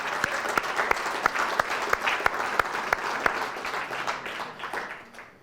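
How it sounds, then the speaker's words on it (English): A sustained round of applause at a sports council awards ceremony, crowd clapping with a few sharp, prominent claps standing out near the listener, tapering off at the end. "give a big round of applause"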